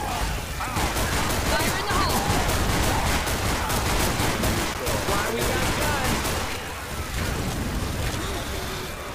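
Dense, rapid gunfire rattles nonstop through a Left 4 Dead 2 firefight, loud, close and continuous, with player voices faintly mixed in.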